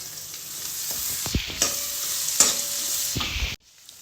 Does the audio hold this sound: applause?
no